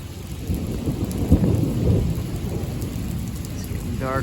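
Rain pours steadily during a night lightning storm over southwestern Clarion County, Pennsylvania, with a deep roll of thunder rumbling beneath it.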